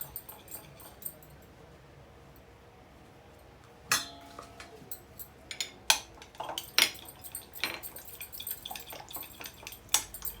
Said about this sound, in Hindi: सबसे पहले इसे मिक्स करती हूँ, फेंट लेती हूँ अच्छे तरीके से।